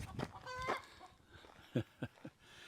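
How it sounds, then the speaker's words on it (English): A hen clucks and cackles, as after laying an egg: a drawn-out call followed by several short, separate clucks, faint and somewhat distant. "Sounds like a chicken's laying an egg."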